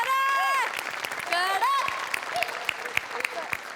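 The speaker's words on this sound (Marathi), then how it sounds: "सो बनेसाठी एकदा टाळ्या" A studio audience at a Marathi comedy show applauds; a voice speaks over the opening, then scattered claps continue more loosely as it fades.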